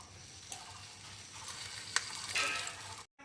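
Lachha paratha fries in oil on a tawa, a soft steady sizzle with occasional sharper crackles and spatters, close and fairly quiet, ending in a brief cut.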